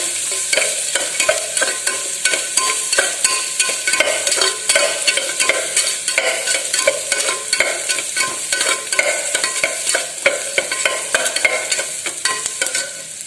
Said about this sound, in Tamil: பச்சை மிளகா போட்டு வதக்கலாம். பச்சை மிளகா வதங்கட்டும்.